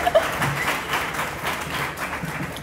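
Audience applause at the 2012 Tufts Alumni Awards for an award recipient, a dense, steady patter of many clapping hands at moderate loudness that continues through the whole moment.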